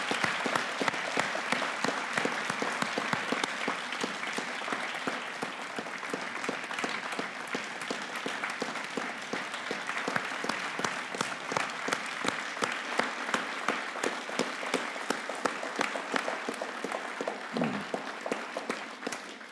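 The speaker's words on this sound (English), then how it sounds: "let's give him one more round of applause" A large crowd at a Delaware State Police graduation ceremony gives sustained, dense applause, many hands clapping loudly and continuously for nearly twenty seconds.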